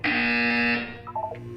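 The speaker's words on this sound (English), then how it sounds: "You will hear a buzzer." A loud, steady electronic buzzer from the video game Portal 2 drones for almost a second, cuts off, and gives way to a softer chiming electronic tone pattern.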